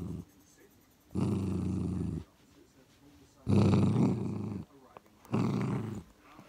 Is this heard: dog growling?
yes